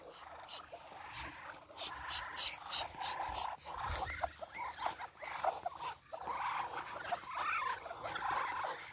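A Muscovy duck drake and his flock kept at home in winter give quiet, scattered fowl calls and hissing chatter at close range, with faint background voices.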